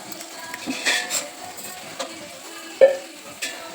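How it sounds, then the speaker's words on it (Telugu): Mutton pieces are mixed by hand with ginger garlic paste, turmeric and yogurt, making soft, wet squelching and scraping with a few sharper clacks against the vessel and no speech. "ఇవన్నీ మంచిగా కలిసేలాగా కలుపుకోవాలి మటన్ ముక్కలకు మంచిగా కలిపి కలిసేలాగా"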